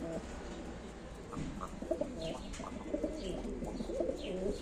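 Play pigeons at a live pigeon auction coo in soft, repeated throaty phrases over a low background hum, several calls overlapping in quick succession.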